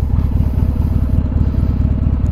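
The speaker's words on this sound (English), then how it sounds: "going to try to park my bike" A Harley-Davidson Sportster's engine idles with a loud, close, rapid lumpy throb while the bike is parked on an incline on a rural road.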